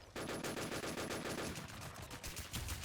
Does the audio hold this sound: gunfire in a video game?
yes